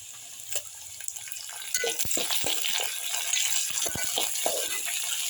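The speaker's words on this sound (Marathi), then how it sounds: "आता मी टोमॅटो टाकत आहे." Tomatoes dropped into hot oil with fried onion and garlic for a drumstick amti, a sizzle that swells partway through with scattered clinks and stirring scrapes, no talk.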